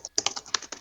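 Fast, bursty typing on a computer keyboard, a quick run of sharp clicky keystrokes close by and fairly loud, with no talking.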